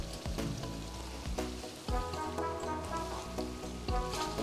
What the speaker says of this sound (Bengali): এখন আমরা এই কোফতাগুলোকে সিদ্ধ হবার জন্য নারকেলের দুধটাও দিয়ে দিলাম।